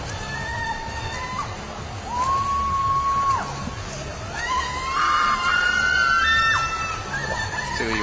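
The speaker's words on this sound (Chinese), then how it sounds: "这个有尖叫声" Fans at a swimming championship let out high, sustained screams and shrieks that rise and fall over the echoing hum of an indoor pool crowd.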